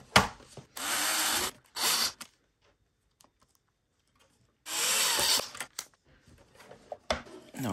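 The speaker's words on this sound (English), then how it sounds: "So now I'm going to throw the screws back in here." Screws are driven back into an onn. large Bluetooth speaker enclosure with a power driver, heard as several short, close whirring bursts separated by quiet pauses and small handling clicks.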